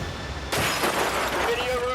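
Window glass shatters during Hurricane Andrew in a home office: a sudden, loud crash of breaking glass followed by scattered tinkling, over the roar of the storm with voices in the background.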